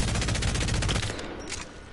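Devotion gun firing in Apex Legends, a loud, steady burst of rapid automatic shots close up that stops after about a second, leaving a fading echo.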